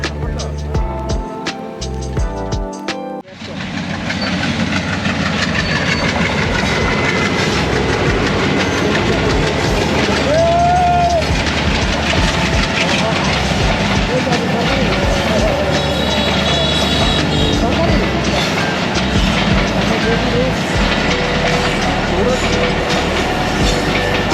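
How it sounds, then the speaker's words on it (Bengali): A train passes slowly on a rural line near Dinajpur, giving a loud, continuous rumble with rolling wheel clatter and a brief whistle-like tone midway. The train noise stays up close throughout after a short opening stretch of other sound. "হঠাৎ দূর থেকে শুনতে পাই একটা ট্রেনের হুইসল এটাই দেখি একটি ট্রেন ধীরে ধীরে চলে যাচ্ছে"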